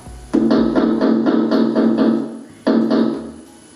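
Knuckles rap on a door in two bursts, a quick run of about eight even knocks followed after a pause by a couple more, close and fairly loud with a hollow, drum-like tone.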